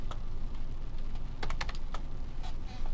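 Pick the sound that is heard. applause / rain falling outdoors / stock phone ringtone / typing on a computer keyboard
typing on a computer keyboard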